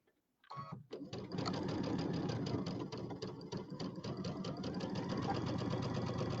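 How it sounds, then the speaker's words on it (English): A sewing machine runs fast and steadily while piecing quilt pieces, a dense continuous whirring hum with rapid stitching rhythm that starts after a brief pause and stays loud and close throughout. "This machine sews pretty fast."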